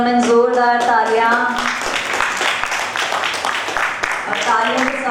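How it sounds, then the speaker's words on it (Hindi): An awards-ceremony audience breaks into applause, a dense burst of clapping hands that swells in the middle and carries on under a host speaking into a microphone before and after. "Ladies and gentlemen, जोरदार तालियां"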